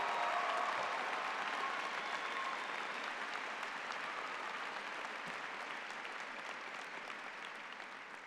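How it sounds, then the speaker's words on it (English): A large crowd applauds at the Adelphi University undergraduate commencement in 2025, a broad, sustained wash of clapping heard from a distance that slowly fades over several seconds. "Give yourself a round of applause."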